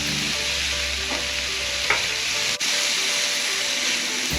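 Thin steak sizzles on a Blackstone griddle outdoors, a close, even frying hiss with faint spatula scrapes and a short clank partway through, with no talking.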